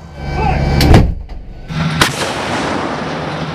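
M109 Paladin self-propelled howitzer firing during a National Guard live-fire drill, one loud booming blast with a long rumbling decay, followed by a second sharp thud amid outdoor background noise.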